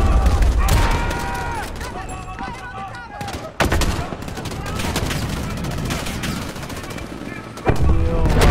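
Sniper rifle fire during a Call of Duty Modern Warfare campaign firefight on veteran difficulty: sharp, loud cracks cut through dense surrounding gunfire and explosions, with talk over the battle.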